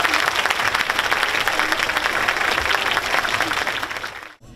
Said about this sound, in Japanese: 改めて盛大な拍手をお送りくださいませ。